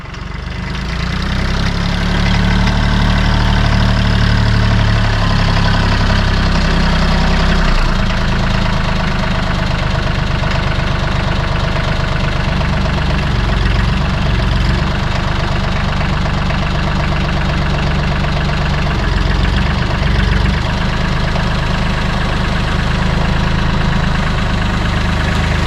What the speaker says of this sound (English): I'm going to put the tractor up against it.